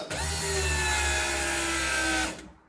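A Nissan S13 fitted with a rebuilt 1JZ engine has its ignition switched on, and its systems give a loud, steady whirring whine for about two seconds before cutting off abruptly.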